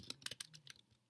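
Code being typed on a computer keyboard: a quick, close burst of about eight crisp key clicks in uneven rhythm, fading slightly toward the end.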